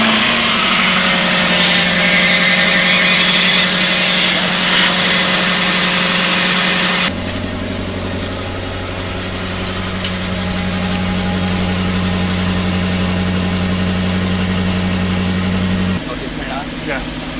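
A Lexus SC300 engine runs and then settles into a steady idle, a constant close drone with a shift in tone partway through and people talking over it.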